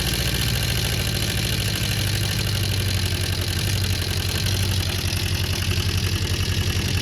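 A Honda CB400 Four classic motorcycle engine under restoration idles steadily close by, a loud even throbbing pulse with a dense rhythmic firing patter and no voices.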